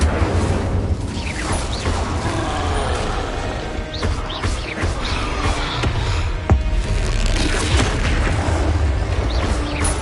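Rapid spell effects from Hogwarts Legacy, Expelliarmus, Leviosa and Incendio, fire off as booming magical bursts and whooshes in dense, continuous combat, loud and close with a steady rumbling bed throughout.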